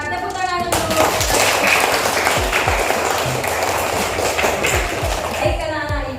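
Classroom applause from a group of pupils, lively clapping that carries on throughout and tails off at the end, with voices mixed in.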